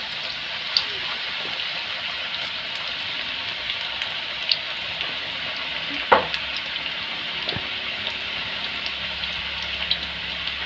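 Crispy kanda bhaji (onion fritters) put back into hot oil for a second fry bubble in a steady, close sizzle, with a few sharp pops and clinks scattered through.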